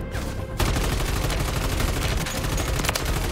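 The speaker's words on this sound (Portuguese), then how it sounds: "Tem alguém atirando em mim" Loud, dense bursts of automatic gunfire aimed at the player in Call of Duty MW3 Zombies, continuous rattling shots after a brief lull, no talk.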